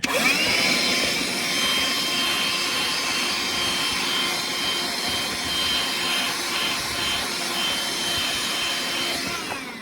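A vacuum cleaner runs continuously nearby, cleaning out old computers, a loud, steady whining roar with a high-pitched tonal hum that never lets up.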